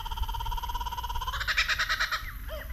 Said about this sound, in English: These birds are so cool,